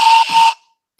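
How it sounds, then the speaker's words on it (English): A toy steam engine whistle gives one shrill, steady blast lasting about half a second, with a slight dip in the middle. Silence follows, then a brief faint chirp at the very end. "Everyone heard your Thank you whistle, for joining. Rheneas."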